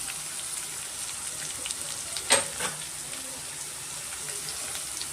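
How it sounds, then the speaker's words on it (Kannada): Onions roast with turmeric and salt in a pan for chicken fry, a steady soft sizzle with one louder spatula scrape midway and a few lighter stirs. "ಸ್ವಲ್ಪ ಈರುಳ್ಳಿ ಚೆನ್ನಾಗಿ ರೋಸ್ಟ್ ಹಾಕಬೇಕಾಗುತ್ತೆ"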